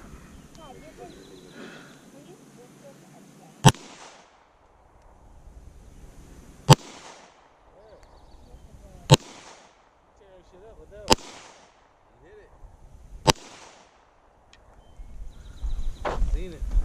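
Five sharp, loud reports from a factory-stock Ruger 57 pistol, fired singly at uneven intervals of two to three seconds, each ringing out briefly over quiet outdoor ambience.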